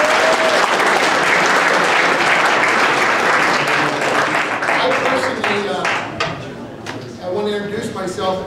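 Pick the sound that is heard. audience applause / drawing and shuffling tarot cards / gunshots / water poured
audience applause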